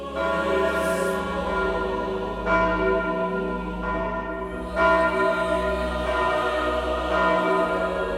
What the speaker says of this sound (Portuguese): ouvir os sinos da catedral